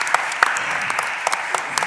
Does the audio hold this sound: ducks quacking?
no